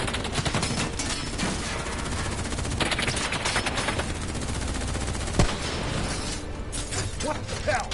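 Sustained gunfire rattles through a Black Ops 3 campaign firefight: rapid machine-gun bursts and scattered shots form a dense, continuous volley with one sharper crack standing out midway.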